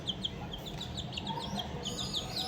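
Two Egyptian Fayoumi hens making soft, repeated clucks and high chirping calls, faint and fairly close, over a steady low background hum.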